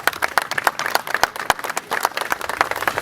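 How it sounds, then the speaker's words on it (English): A round of applause breaks out at a Beyond The Return dinner party in Ghana: many hands clap briskly and unevenly from a table of guests, lively and fairly close throughout. "So let's give her a big round of applause."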